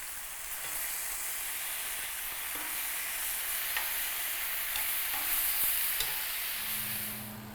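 Elk steaks fry in heated butter in a pan, giving a steady, close sizzle and hiss throughout with a few faint clicks and scrapes, and no talking.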